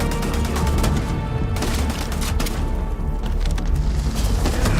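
Dense, continuous gunfire and impacts in the video game Starfield, loud and close throughout, with overlapping shots and crashes and no clear pauses.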